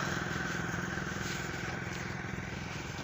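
A motorcycle engine runs steadily on a village road in Pakistan, a continuous low rumbling drone that stays fairly even throughout, close by with no distinct talking.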